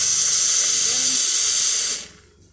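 Hot water pours from an Izzo Alex Duetto espresso machine in a steady, loud hissing rush that tapers off near the end, leaving a quiet room.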